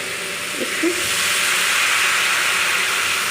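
Water poured into a pan of sautéed potatoes and tomatoes for aloo posto, a loud steady hiss and sizzle throughout, close and continuous.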